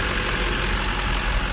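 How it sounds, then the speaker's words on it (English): Steady, even idle of a Duramax 6.6 diesel in a 2005 Silverado 2500 crew cab, a continuous low rumble with no speech over it. "I'm gonna leave it running because it's so quiet on these Duramax diesels."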